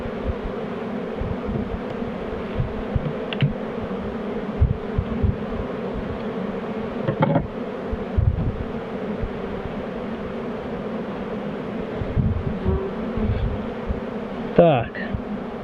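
Dense, steady buzzing of many honey bees close by at the hive, a continuous droning swarm with occasional soft knocks and handling noises.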